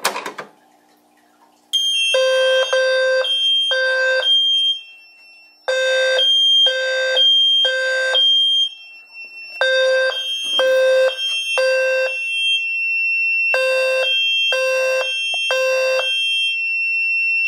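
A fire alarm on a Simplex panel under test sounds loud and close in repeated bursts of rapid beeping tones, each group separated by short silent gaps, with a steady high tone continuing throughout.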